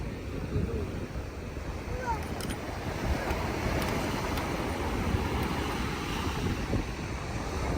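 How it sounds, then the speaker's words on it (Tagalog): Strong wind at the beach buffets the microphone in a steady, rumbling roar, with a faint wash of sea surf in the background. "Malakas ang hangin ngayon eh."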